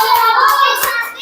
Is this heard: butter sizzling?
no